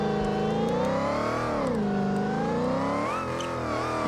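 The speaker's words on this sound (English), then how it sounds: "I'm full throttling it." A battered motorhome in BeamNG.drive held at full throttle, its engine droning loud and steady with rising and falling pitch over about four seconds, no voices.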